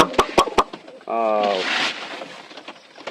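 Pigeons of various breeds kept in a coop, with a few sharp clicks and taps followed by one clear, low, throaty coo close by.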